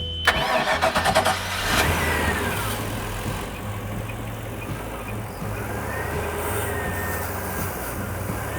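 A boat engine cranks with a quick chattering start and catches, then settles into a steady mid-pitched idle that runs on alone.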